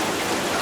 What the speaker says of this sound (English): it's still pouring out there